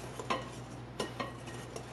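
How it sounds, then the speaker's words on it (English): A spoon stirs a dry gravy mix with black pepper in a kitchen bowl, giving faint scattered scrapes and taps over a low steady hum. "I'm gonna mix this in, and then I'm gonna add my black pepper."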